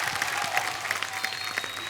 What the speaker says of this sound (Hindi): जोरदार तालियां हो जाए एक बार हमारे तीनों मेहमानों के लिए